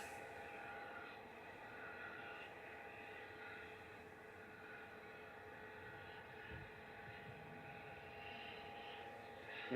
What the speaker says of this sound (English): the A380 rumbling through the clouds